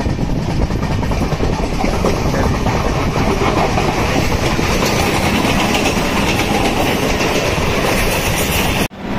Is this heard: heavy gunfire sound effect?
no